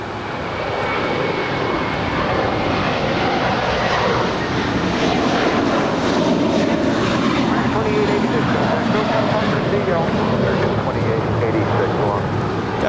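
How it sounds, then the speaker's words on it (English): A seven-year-old American Airlines Airbus A321 jet departs from LAX, a steady broadband engine roar that holds strong and even throughout, with voices talking over it. "That is American 2886 departing to Dallas Fort Worth. It's a 7-year-old Airbus A321."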